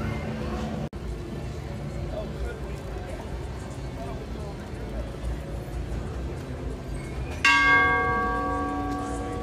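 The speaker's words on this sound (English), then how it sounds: "we are allowed to ring the Freedom Bell with respect" The Freedom Bell at the Florida Strawberry Festival in Plant City is struck once near the end, a loud, close metallic clang that rings on with a long ringing decay over crowd chatter and outdoor bustle.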